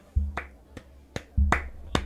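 Five sharp, close finger snaps offered as applause in an uneven rhythm, with a couple of low thumps between them and no voices.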